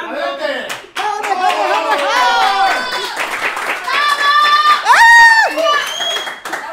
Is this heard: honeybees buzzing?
no